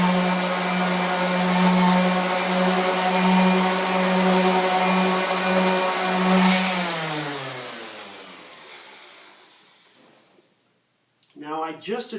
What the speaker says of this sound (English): a palm sander like this